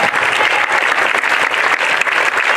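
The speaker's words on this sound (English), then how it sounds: "Give God a hand clap of praise in this place." A church congregation claps hands in praise during a worship service, steady dense applause from many people, loud and sustained for the whole stretch.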